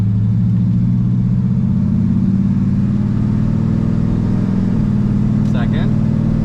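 A Pontiac LeMans with a freshly rebuilt transmission pulling away onto the road, a loud steady low engine drone heard from inside the car under a person's voice.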